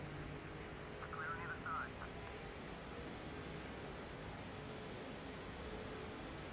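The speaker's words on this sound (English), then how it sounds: "Sorry if you hear that loud sound. That's a jet flying by overhead." Jet aircraft passing overhead: a broad, steady roar of engine noise filling the background at moderate level for the whole stretch, with muffled speech briefly audible near the start.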